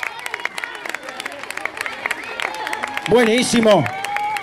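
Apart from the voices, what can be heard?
applause for the murga's women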